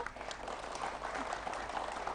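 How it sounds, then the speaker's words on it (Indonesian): Applause from an audience at an Indonesian community event in Plengkunggading as guests are welcomed, a steady wash of clapping heard at a distance and fairly faint, with no talk over it. "Kita berikan tepuk tangan."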